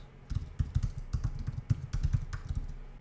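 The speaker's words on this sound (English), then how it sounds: "we're going to type credential.helper" A git command is typed on a computer keyboard: a quick, uneven run of close, crisp key clicks that continues for about three seconds, with no talking over it.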